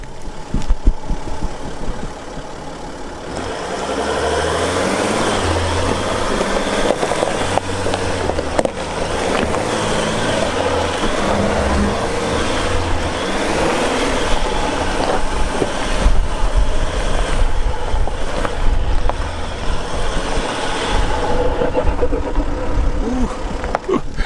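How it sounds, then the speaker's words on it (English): A car's turbocharged engine works under load while driving on a road trip near Yellowstone and the Black Hills, giving a steady loud rumble and whoosh that runs the whole time, close inside the cabin with no talking. "You hear that turbo working."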